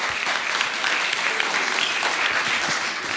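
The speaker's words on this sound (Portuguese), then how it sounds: "Palmas." An audience at a spiritual lecture claps steadily, a dense, continuous round of applause filling the whole stretch with no pause.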